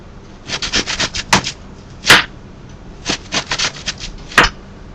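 Knife slicing half an onion on a cutting board: a series of quick, close, crisp cuts in bursts, with a few sharper chops standing out, no talking.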